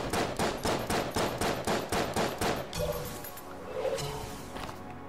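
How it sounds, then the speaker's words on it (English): Rapid bursts of gunfire from the Enter the Gungeon video game as boxes get shot up, about ten sharp, evenly spaced blasts over three seconds, then crumbling debris and scattered crashes trailing off. "let's go shoot up some boxes"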